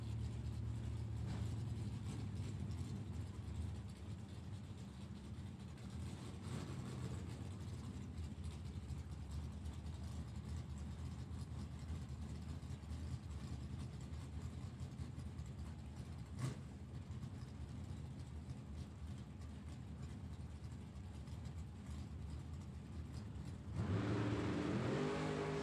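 Drag racing engines from the Overkill Motorsports truck and a Z28 Chevrolet Camaro roar as a continuous heavy rumble, with a louder burst of revving near the end and no talk.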